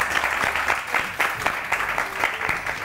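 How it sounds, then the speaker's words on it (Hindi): A studio audience on a morning talk show applauds in a steady, moderately loud burst of dense clapping, with individual claps audible throughout and no speech over it. "हो जाए तालियां यार, तालियां बजेंगी तो कोई आएगा ना।"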